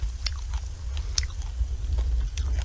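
Crunchy braised burdock root is chewed close to the microphone, giving a series of crisp bites and crunches roughly every half second, with no talk.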